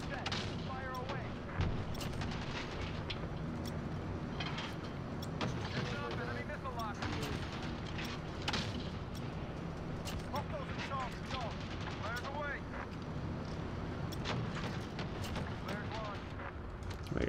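Artillery strike killstreak raining down in Call of Duty Modern Warfare: a dense, continuous barrage of booming explosions and gunfire, loud and sustained, with game voices faintly mixed in.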